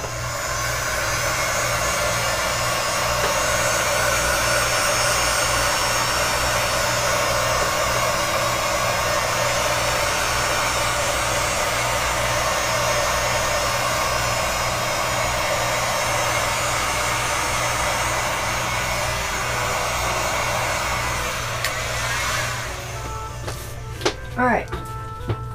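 A heat gun blows hot air over a wax and alcohol ink pour, a loud steady close whooshing drone for most of the time that cuts off near the end into scattered clicks and handling noises.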